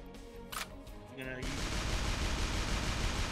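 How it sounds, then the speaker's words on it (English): A quicksand weapon shot fired in the artillery game ShellShock Live, a short clicks-and-tones lead-in followed by a loud, sustained rumbling blast of noise that fills the rest of the moment. "That was quicksand. It digs a hole."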